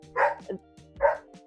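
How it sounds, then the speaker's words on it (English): A dog barks twice in a home while furniture shopping plans are discussed, two clear mid-loud woofs about a second apart with a softer yip between them. "Sorry for my dog."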